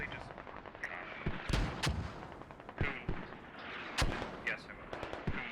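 Mortar impacts in a squad shooter game land as a string of sharp, booming detonations at irregular intervals over a low battlefield rumble, with faint voices underneath.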